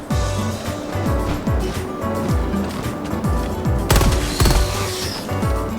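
Rapid bursts of gunfire in the video game Helldivers 2, loud and close, with shots cracking in quick clusters over a continuous rumble of battle.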